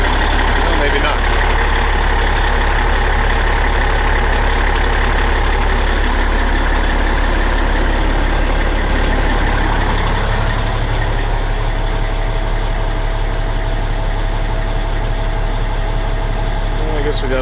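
A Peterbilt 379 truck engine idles steadily with a deep, constant low rumble, running on while its air system builds pressure, with no other sound breaking in.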